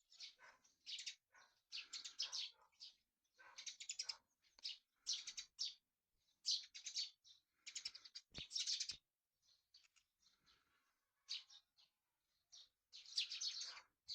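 Flock of sparrows chirping from a tree, a dense run of bright overlapping tweets and calls in bursts, fairly close and continuous throughout.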